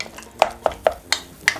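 Minced meat stir-fried without oil in a pan over a strong low heat, with a series of about five sharp utensil clicks and scrapes against the pan, close and distinct over a quiet background.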